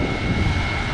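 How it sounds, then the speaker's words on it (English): A farm tractor pushing up corn silage at the silo, giving a loud, steady, close engine roar with a broad rumbling drone and no pauses or voices. "These straight trucks are a little easier for our tractor to push than the semi is."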